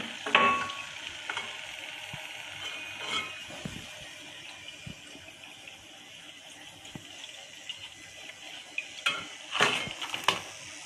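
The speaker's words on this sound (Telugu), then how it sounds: "అన్నీ ఇలా వేయించుకోవాలి" Jaggery puris fry in hot oil with a steady low sizzle, punctuated by occasional clinks and scrapes of utensils against the pan, close and moderate in level.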